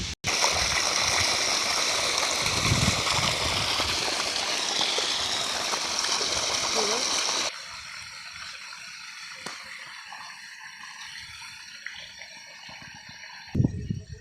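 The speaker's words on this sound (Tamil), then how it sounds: "இப்போ மோட்டருமே ஓடிக்கிருக்கு" Water from a running well pump motor gushes steadily into a channel at a coconut grove farm near Sembatti, Dindigul district, a loud continuous rush that drops to a quieter flow partway through.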